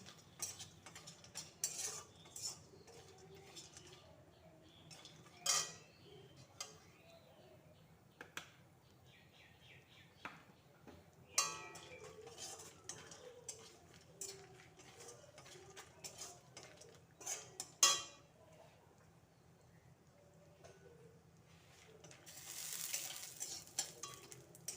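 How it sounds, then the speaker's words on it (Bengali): Raw peanuts being fried in oil, a faint low sizzle beneath frequent scraping and clinking of a metal spatula against the pan, with a brief louder hiss near the end. "দেখো কাঁচা বাদাম শুলে নিয়েছি আমি এখানে একটু ভেজে তেলের মধ্যে ভেজে নিচ্ছি"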